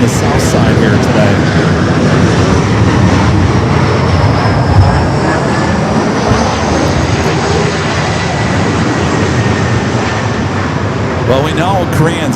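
A Korean Air Airbus A380 jet arriving at LAX, its engines a loud, continuous roar with a faint whining tone that dominates the whole stretch.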